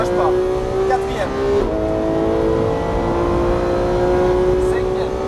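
A Porsche GT3 pulls hard at full throttle on the Issoire circuit, with a steady, loud engine drone and rising harmonics that carry through the whole stretch as the car climbs through the gears.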